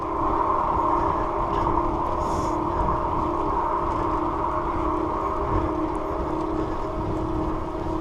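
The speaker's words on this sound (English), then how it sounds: "The engine is helping me now." An e-bike's electric assist motor hums steadily while the rider pedals, holding a constant mid-pitched tonal whine with layered harmonics over a soft background rush, continuous and unchanging for several seconds with no talk.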